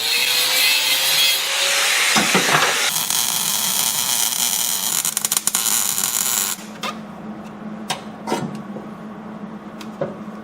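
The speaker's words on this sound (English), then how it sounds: "I'm going to come in here and I'm going to cut this piece off." A welded metal piece is cut off during an LS swap battery relocation. A loud, close power-tool cut roars steadily for several seconds, then stops, followed by a few sharp knocks and a low hum.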